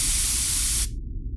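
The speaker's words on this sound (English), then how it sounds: "This cooking spray should do." A cooking spray can spritzes onto a pan in one steady, close hiss lasting almost a second, then cuts off abruptly.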